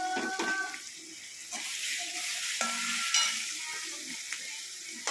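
Fenugreek powder and mustard seeds stirred in a pan for a lemon, apple and raisin pickle: a soft sizzle under repeated scraping strokes and light clinks of a spoon, close and fairly quiet.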